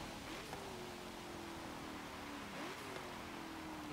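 A 2016 Cadillac CTS-V sedan of more than 600 horsepower revs in Forza Motorsport 7, its engine note climbing and dropping twice through gear changes, thin and distant beneath steady broadband hiss.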